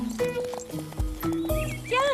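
Horses clip-clop along in a cartoon race, hooves beating in an uneven rhythm with a whinny toward the end, mixed under animated voices and music.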